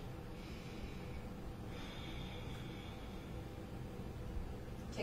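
Slow, audible breathing during a slow-flow yoga session, with one long airy inhale drawn in and let out over a faint background hiss, quiet and close, and no talk.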